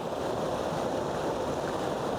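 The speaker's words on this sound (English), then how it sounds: "I'm in Pinch Creek today, down by the creek" Steady outdoor water ambience beside a flowing creek, a continuous broadband rush with a little wind buffeting the microphone, close and even throughout with no voices.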